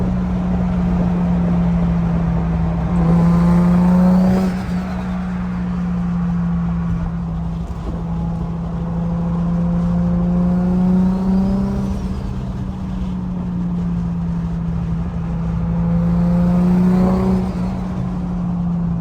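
A Nissan 350Z engine with boost controller and new clutch idles low and steady, with three revving bursts that climb and fall back, loud and close throughout, with no talking.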